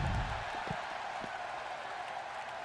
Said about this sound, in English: I like how the crowd always cheers for me